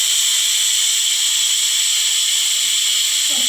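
Steam hissing steadily from a pressure cooker whistle while egg biryani cooks, a continuous loud high-pitched hiss with no voices.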